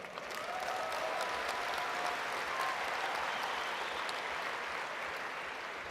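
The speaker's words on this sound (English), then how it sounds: "I think you should give yourself a huge round of applause." A training-event audience gives a long, dense round of applause, a steady wash of many hands clapping with a few faint whistles.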